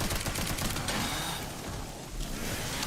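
Rapid automatic gunfire rattles in dense, sustained bursts during a combat scene in the survival horror game Resident Evil 9: Requiem, loud and continuous with a brief dip in intensity midway.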